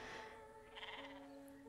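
A sheep in the Star Stable Online video game gives a faint, quavering bleat partway through, set against a quiet steady tonal game background.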